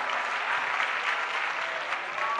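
An audience claps steadily in a hall, a dense continuous wash of applause at moderate level with no voices standing out.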